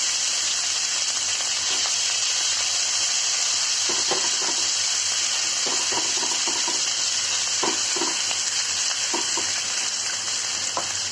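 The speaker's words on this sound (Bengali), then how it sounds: "এখন ভেজে নিচ্ছি, চুলা দিয়ে দিচ্ছি আমি। এটা বেশ খানিকটা ভাজবো, আমি ব্রাউন করে দেবো।" Chicken wings and vegetables fry in a pan on a stovetop for a Chinese-style platter, a constant loud sizzle broken by repeated light scraping and clinks from stirring.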